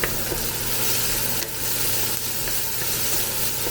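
Meat fries in a pan of olive oil and regular cooking oil, giving a steady, loud, close sizzle throughout, with a few soft stirring scrapes mixed in.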